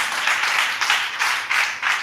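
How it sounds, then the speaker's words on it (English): Audience clapping at a wellness event, a dense steady patter of many hands swelling in loose waves without a break. "Let's clap for him."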